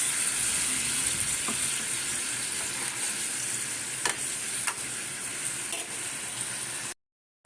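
Spice paste thinned with water bubbles and sizzles in a pan for aloo, kochu and prawn curry, a steady hiss with a few sharp clinks of a spoon, then cutting to silence at the end.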